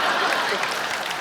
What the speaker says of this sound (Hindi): अच्छा, तालियां।